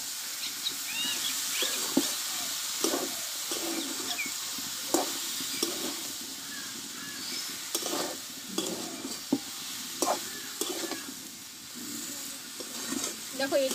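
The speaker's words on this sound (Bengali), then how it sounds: "কপিটা দিয়ে আমি ভালোভাবে একটু নাড়াচাড়া করে নেব" Cauliflower stirred and fried in a pan with salted oil, a continuous sizzle broken by repeated scraping strokes of a spatula, close and fairly even.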